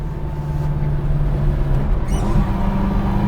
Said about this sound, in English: Oh yeah, rev matching again.